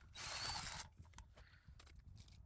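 A short whirring burst from a power drill removing wheel nuts on a Ford Focus Mk4, followed by faint metallic clicks and clatter of parts being handled nearby.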